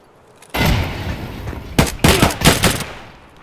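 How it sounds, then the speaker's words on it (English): Gunfire in an Escape from Tarkov firefight on the Customs map: a sudden loud burst of shots opens, followed by several sharp clustered volleys of rapid fire that trail off, with no talking. "oh, firefight"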